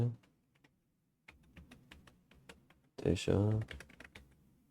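Rapid clicking keystrokes from a keyboard, close up, with a burst of talking near the end.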